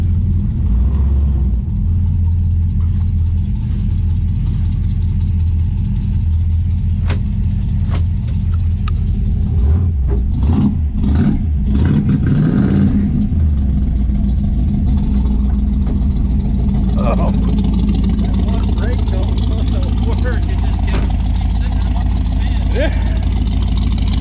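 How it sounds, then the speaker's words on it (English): A Dodge Dart A-body engine fitted with MSD ignition runs loud and steady throughout, with a rougher burst of revving near the middle before settling back to a rumbling idle. "That MSD ignition messed with the Dart sound"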